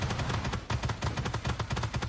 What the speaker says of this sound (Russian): мы еще и будем слышать постоянно стрельбу с автопушки от пятнашки